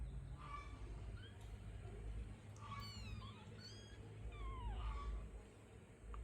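Street kittens meow several times in a row, thin rising and falling cries spread across a few seconds over a steady low background hum, fairly close but not loud.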